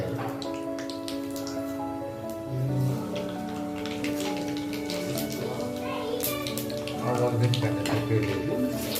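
Cumin and mustard seeds frying in hot oil in a home kitchen make a soft, steady crackle and scattered pops, partly under a man's speech and background voices.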